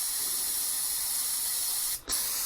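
A spray gun fed by a compressor releasing its pressure as a steady, bright hiss, broken once by a brief dip near the end, with no talking.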